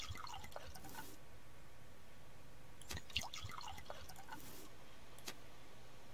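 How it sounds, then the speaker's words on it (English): Water being filled in the survival game Subsistence, heard as faint, sparse dripping and splashing trickles against a quiet hiss, in several short bursts. "let's fill up the water"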